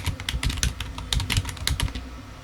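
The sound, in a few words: typing code on a computer keyboard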